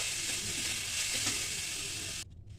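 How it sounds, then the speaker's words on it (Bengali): Coconut and sugar filling cooks in a kadai (wok), giving a steady close sizzle with faint stirring for about two seconds before cutting off abruptly. "এবার পুরটাকে আমি রেডি করে নিচ্ছি কড়ার মধ্যে।"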